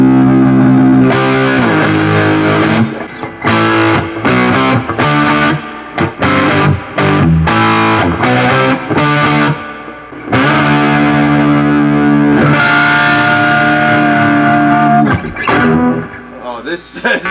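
Loud distorted electric guitar played through a DoubleCream P90-style humbucker pickup, with choppy rhythmic chords moving into sustained ringing notes and bends, close and dense.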